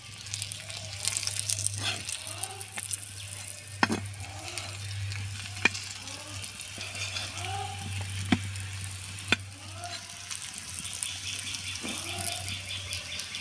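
A flipped paratha, made from packet milk powder and flour, fries in oil in a pan with a steady close sizzle, a few sharp clicks and light scrapes, over a low constant hum.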